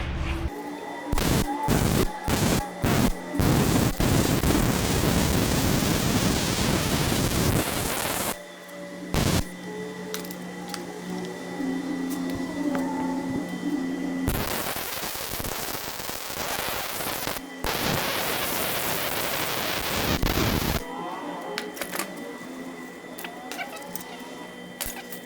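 Welding on a 1978 Lincoln Mark V lowrider: loud, close crackling bursts, first a string of short stuttering zaps, then long sustained buzzing runs broken by pauses, with faint shop hum in the gaps.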